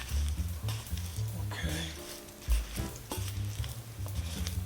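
Strawberries being stirred with flour and sugar in a bowl make soft, close scraping and rustling sounds with irregular rhythm and a few light knocks.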